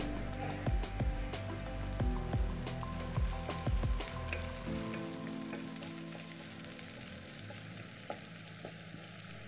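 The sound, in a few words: curry leaves sizzling in hot oil for poori masala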